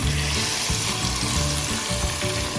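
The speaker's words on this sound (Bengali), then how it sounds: "এঁচোড়টাকে ভাজবো।" Young jackfruit pieces fry in a pan with a dense, steady sizzle and crackle, close and loud, with no voices.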